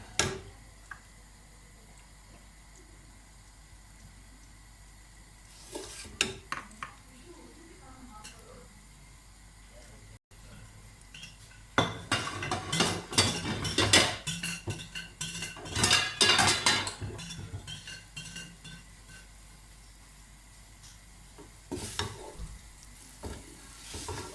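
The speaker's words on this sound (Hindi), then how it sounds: "इसमें मैं तली हुई प्याज डाल रही हूँ" Fried onions added to a pot for beef and potato pulao, quiet at first, then a louder burst of sizzling and spoon-against-pot stirring in the second half, with someone talking over parts of it.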